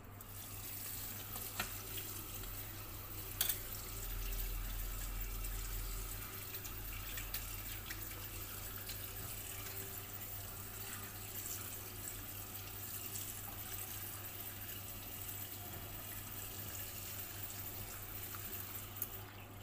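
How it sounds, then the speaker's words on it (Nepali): Homemade paneer rinsed directly under a running tap, a steady close rush of water splashing into a sink with occasional clicks and drips throughout, no voices. "हामी डाइरेक्ट धारामा पानीमा पखाल्छौँ यसलाई।"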